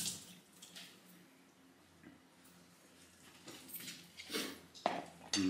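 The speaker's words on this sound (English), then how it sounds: "Just rinse off the knife quickly." A kitchen knife is rinsed under a running tap while making a tuna focaccia sandwich, with a quiet splashing stream that swells into louder gushes toward the end.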